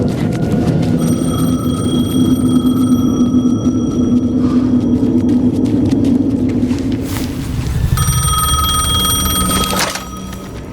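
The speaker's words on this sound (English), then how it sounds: "The payphone was ringing." A payphone rings in Alan Wake 2: repeated electronic bell trills, steady and fairly loud, running over a low droning ambient bed, with a short pause in the middle before the ringing resumes.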